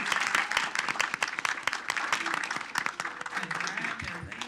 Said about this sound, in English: Let's give our new chief a big round of applause